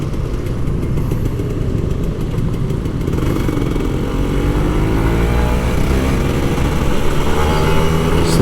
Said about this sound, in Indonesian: Ya kayak gini nih yang bikin boros, ngegas terus ngerem